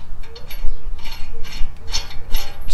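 Lug nuts being tightened onto the new front brake rotor of a 2013 FJ Cruiser, giving a series of close, quick metallic ratcheting clicks in short bursts.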